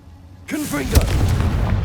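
A Confringo blasting spell in Hogwarts Legacy erupts into a loud, close explosion with a deep rumbling boom and crackling tail, right as a voice shouts the spell's name over its onset.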